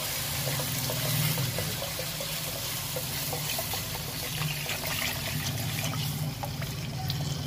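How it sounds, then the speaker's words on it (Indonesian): Water pours steadily into a cooking pot of simmering broth with onion for a vegetable soup, a continuous close splashing gurgle that stays even throughout. "kita beri air"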